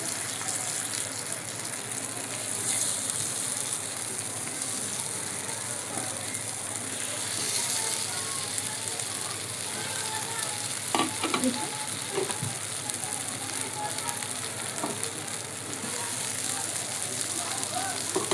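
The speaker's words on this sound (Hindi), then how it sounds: "इसे मैं एकदम क्रिस्पी फ्राई कर लूँगी।" Tikki patties crisping in a little oil on a grill pan over a medium-low flame; a steady, dense sizzle runs throughout with a few faint clinks, close and even.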